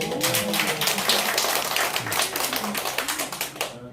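An audience at a Korean seminar or lecture applauds, giving a burst of dense, steady clapping that lasts several seconds and fades at the very end.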